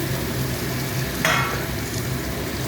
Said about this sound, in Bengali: এই চিংড়ি মাছ আর বেগুনটা আমি একসাথেই রেখেছি, এই যে দিয়ে দিলাম।